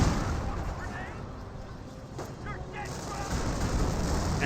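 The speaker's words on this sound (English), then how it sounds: "M10 firing some shots there" An M10 tank destroyer fires its gun in Company of Heroes, a World War II strategy game. A few booming shots sound amid dense battle noise, with a voice talking over it.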